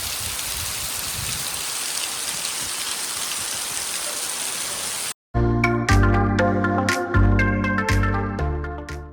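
Steady, dense rain falls outdoors over red soil in the Konkan countryside, a loud unbroken hiss lasting about five seconds before it cuts abruptly to music.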